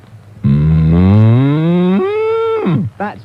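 A man imitates a cow's moo with his voice, one long loud drawn-out call that rises and then drops in pitch at the end, followed by a brief second vocal sound.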